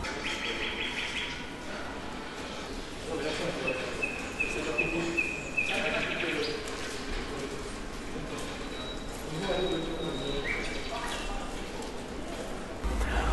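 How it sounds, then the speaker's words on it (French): Recorded tit birdsong plays outside a shop: thin, repeated chirps and trills over a steady street bustle, with faint voices and footsteps in the background. "devant le magasin, on a la possibilité de faire écouter les mésanges"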